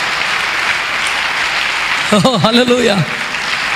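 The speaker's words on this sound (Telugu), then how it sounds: "గట్టిగా చప్పట్లు కొట్టి ప్రభుని కనపరచు" A church congregation claps loudly and steadily throughout, a dense, even wash of applause, while a voice rises briefly in a sung or shouted exclamation in the middle.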